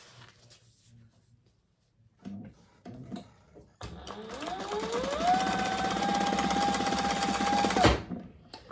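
An electric sewing machine stitches through a leather wallet, a sustained close mechanical whir with a rising motor pitch that runs for several seconds after a few brief handling noises, then stops abruptly.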